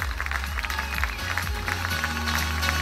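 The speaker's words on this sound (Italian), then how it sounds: "prenditi tutto l'applauso del pubblico" An audience at an evening show in Italy applauds, with steady clapping from a crowd under a booming low musical tone and a voice rising near the end.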